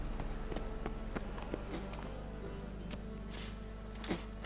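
Horse hooves clip-clopping in The Witcher 3 video game, a steady run of hoofbeats under a constant low hum of game music and ambience, with a brief louder knock near the end.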